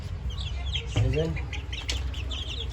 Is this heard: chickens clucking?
yes